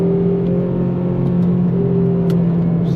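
Honda Civic FG2 engine under steady throttle on a highway, a loud continuous drone with a constant pitch and road roar, heard from inside the car with no talking.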